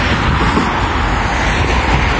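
A city bus passes on a road along the Konyaaltı seafront, a steady broad engine and tyre roar filling the short stretch close by, with no voices.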